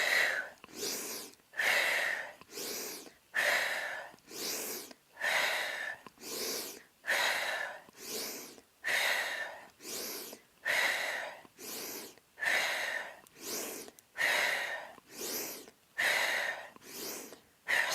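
Heavy rhythmic breathing during knee push-ups, about a dozen strong breath cycles, each a loud close exhale with a shorter inhale, evenly spaced and unaccompanied by speech.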